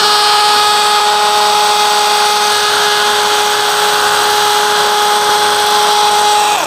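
A DeWalt DCD706 brushless cordless drill whines steadily and loudly at close range, holding a constant high pitch throughout before winding down briefly at the very end.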